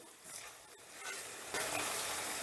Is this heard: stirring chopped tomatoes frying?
yes